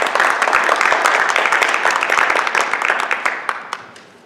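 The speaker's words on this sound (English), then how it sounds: "Let's give a round of applause for our sophomore members." A high school National Honor Society audience claps for the sophomore members, a dense crowd applause of many hands that holds steady and then thins and fades out at the end.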